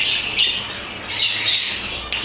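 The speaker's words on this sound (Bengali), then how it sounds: "আমার ছোট পাখিগুলো অভ্যস্ত না হ্যান্ড ফিডিংয়ের জন্য।" Young pet birds squawk in a shrill, continuous chorus during hand feeding, close and fairly loud, with a sharper burst near the end.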